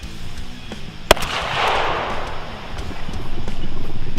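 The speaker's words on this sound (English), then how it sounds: "shooting versus barriers such as car doors, windshields, maybe some cinder blocks" A gunshot cracks once, sharp and loud, early on during a police ammunition demonstration of .380, .45 and .308 rounds fired into barriers like car doors and windshields, followed by a rushing wash of noise and outdoor rumble.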